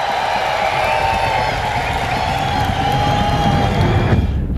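A crowd cheers and whoops in a loud, sustained roar with some shouting voices that cuts off abruptly near the end.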